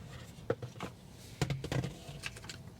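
Taptes wireless charging pad packaging being handled and opened, with scattered soft taps, rustles and cardboard knocks in short bursts at close range, fairly quiet.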